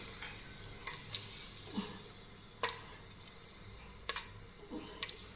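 Whole spices such as cardamom, cinnamon, cloves and stone flower dropped into hot oil in a cooking pot for pulao, with a soft steady sizzle and a few sharp clinks and stirs, close, no talk.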